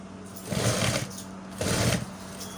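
A sewing machine stitches a bomber jacket, running in two short, close bursts of rapid mechanical whirring with a steady hum between them.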